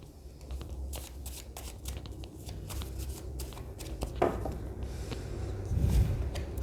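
Tarot cards are handled and shuffled close by in soft, continuous papery riffles and slides, with brief snaps and a light thump near the end.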